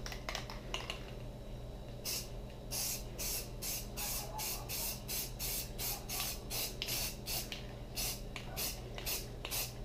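A spray gun lays lacquer over dyed wood in short repeated bursts of hissing spray with brief pauses between, close and fairly quiet over a steady background hum, no voices.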